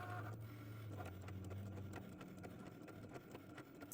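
Electronic cutting machine working through a paper sheet, a steady close motor whir with rapid ticking carriage movements and small clicks throughout.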